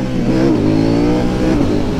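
A KTM Duke 890 motorcycle engine revs loudly, steadily and continuously, its pitch rising slightly and then settling, close up, with no voices.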